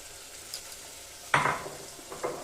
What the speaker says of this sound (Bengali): এবার আমি এর মধ্যে দিয়ে দিচ্ছি কাঁচা লঙ্কা দিয়ে বেটে রাখা পালং পাতা